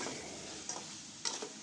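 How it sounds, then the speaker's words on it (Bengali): Rohu fish frying in a pan with no oil, a soft dry sizzle with faint stirring scrapes, two brief louder clinks standing out, quiet and close. "মাছ ভাজি করতেছি"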